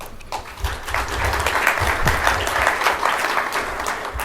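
A large conference audience applauds at the opening ceremony of a 2012 global space exploration conference. The clapping is a thick, sustained patter that builds slightly after a quieter start and carries on without speech.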